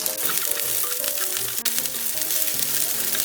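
Scallions stir-fry in hot oil in a pan for a spicy squid stir-fry, making a steady, close, bright sizzle with a light stirring scrape.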